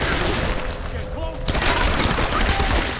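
Heavy shotgun blasts and gunfire in the action game Tomb Raider, a dense, loud barrage with a sharp hit midway and chaotic noise continuing after it.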